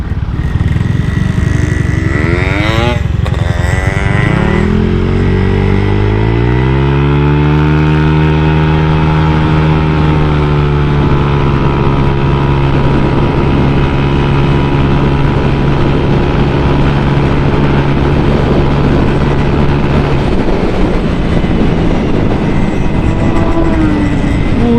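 A Honda Vario motorcycle with a BRT Seher 63 exhaust, ridden fast, gives a loud, close, droning engine note that revs up through rising tones, then holds a steady high-speed hum under heavy wind rush.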